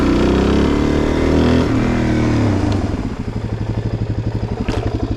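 A Suzuki DRZ400SM single-cylinder motorcycle with low 14/45 gearing and 17-inch wheels runs close by. The engine revs up loudly, then drops into a rapid, lumpy, pulsing throb with a little mechanical clatter.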